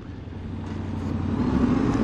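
A Yamaha Ténéré 700 motorcycle engine hums steadily at moderate loudness, its pitch rising slowly as the bike accelerates after shifting into third gear.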